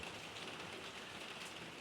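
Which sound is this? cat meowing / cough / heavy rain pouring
heavy rain pouring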